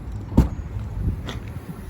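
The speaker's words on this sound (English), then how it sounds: "we'll just pop the boot open" A Honda CR-V 2.0 hybrid SUV's boot being popped open, a single sharp latch clunk followed by quieter rustling and a soft knock, close by in a quiet setting.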